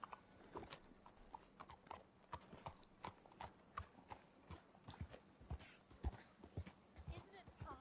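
Horse hooves clip-clop at a steady walking rhythm in Red Dead Redemption II, close and fairly clear, with a voice talking over the steps throughout.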